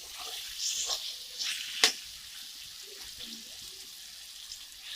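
Country chicken curry simmers and sizzles softly in a pan while a spoon stirs it, with a few scraping strokes and one sharp clink of utensil on metal.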